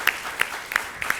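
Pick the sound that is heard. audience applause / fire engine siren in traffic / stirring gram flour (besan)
audience applause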